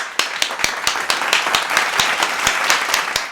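Sharp, distinct claps ring out at a steady beat over a broader wash of applause, with the individual hits standing out loud and close.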